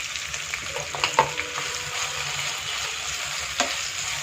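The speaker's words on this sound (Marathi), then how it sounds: "2 मिनिटं परतून घेणार आहे" Boiled potatoes being sautéed in a pan for sabudana khichdi give a soft, continuous sizzle with a few spoon scrapes and clinks, close by but fairly quiet.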